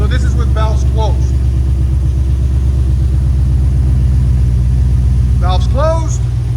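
A 2021 Ford Mustang GT with its 5.0L V8 idles through Valvetronic Designs quad-tip exhaust, valves closed, giving a steady, deep, muted rumble close by. Brief talk comes over it near the start and again near the end.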